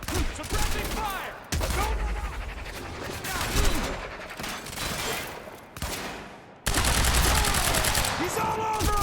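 Suppressing fire in Quantum Break: sustained bursts of automatic gunfire with rapid rattling volleys, loud and close, broken by a few abrupt cuts and shifts in the action.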